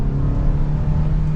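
A 2024 Hyundai Sonata Hybrid Limited accelerates at full throttle in sport mode, giving a steady, loud engine drone with a constant hum from inside the cabin.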